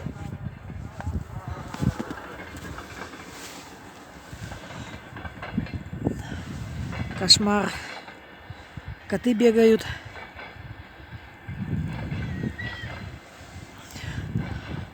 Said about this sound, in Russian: Поезд идет. Дизель.